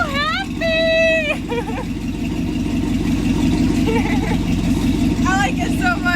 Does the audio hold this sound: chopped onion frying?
no